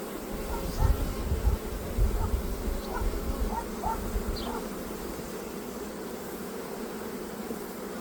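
A steady, dense buzzing of many bees fills the scene close up at a beehive early in the day, with occasional louder passes and some muffled talk underneath.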